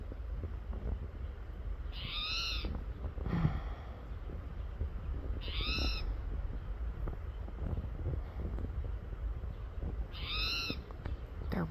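A spotted towhee calls from a tree in a suburban garden: three short, rising-and-falling mewing calls spaced about four seconds apart. They stand out clearly over a steady low rumble of wind and distant background noise.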